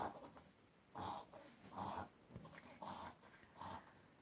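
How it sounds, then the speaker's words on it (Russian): A sick dog with a cold snuffles and snorts through a congested nose in four or five wet bursts, close by, with quiet breathing between them. "Это Пуся у меня тут хлюпает."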